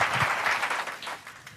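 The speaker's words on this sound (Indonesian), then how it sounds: "Berikan tepuk tangan yang meriah buat Tuhan." A church congregation claps in brief applause, a soft, fairly distant wash of hand claps that fades within a couple of seconds.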